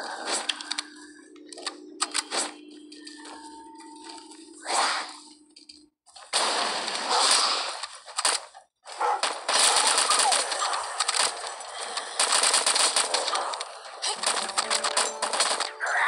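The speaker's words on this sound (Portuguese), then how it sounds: "Todo mundo atirando, por isso que tá indo rápido" Gunfire during a zombie invasion in the game LifeAfter: dense, rapid bursts of shots crackle almost without a break, loud and sharp, after a quieter opening of sparse clicks and single reports.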